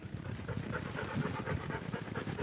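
Puppies pant quickly and rhythmically close by, soft rapid breaths repeating steadily throughout the short moment.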